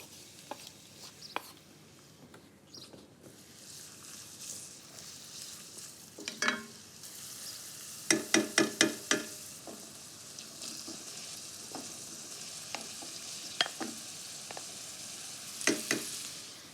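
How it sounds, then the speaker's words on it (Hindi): Chopped garlic sizzles in olive oil in a home kitchen pan, a steady soft frying hiss broken by a few sharp clicks of utensils against the pan, with no talking. "इसमें मैं डालूंगी ऑलिव ऑयल। सबसे पहले तो इसमें मैं एक कटा हुआ गार्लिक डाल देती हूँ।"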